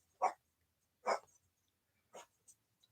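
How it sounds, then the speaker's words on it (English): A dog named Cage barks indoors from a bedroom: three separate sharp barks about a second apart, followed by a short yip, moderately near in an otherwise quiet house. "When Cage starts barking like that, like he is in the bedroom"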